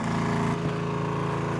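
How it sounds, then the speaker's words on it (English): A Harbor Freight Predator 3500 inverter generator runs steadily close by, giving a continuous droning engine hum with a faint shift in tone partway through and no talking. "So I've got my Harbor Freight Predator 3500 inverter generator running,"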